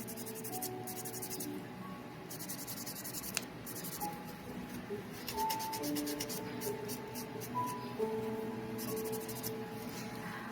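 Quick rhythmic scratchy rubbing strokes come in short bursts, soft and close, as a nail buffer scrubs back and forth over the shiny top of a gel fingernail.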